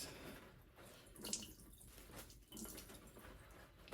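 Water squeezed and strained out of a soaked cornhole bag by hand, a soft, faint trickling and dripping with a couple of small splashy bursts, close up and without talk.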